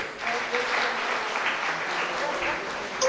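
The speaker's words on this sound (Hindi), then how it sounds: "आप सब तालियों से करेंगे" At the opening day of a spiritual gathering, the audience greets arriving guests with a steady round of clapping, with faint voices murmuring beneath it.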